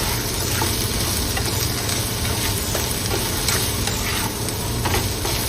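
A potato stir fry with curry leaves is stirred in a hot pan, a loud, dense, continuous sizzle with soft scraping of the spoon, close up and without voices.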